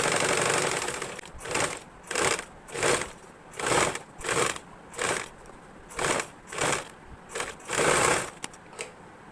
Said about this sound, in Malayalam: ആ ഒരു സ്റ്റിച്ചിലേക്ക് കൂടി തന്നെ നമുക്കൊന്ന് സ്റ്റിച്ച് ചെയ്തെടുക്കാം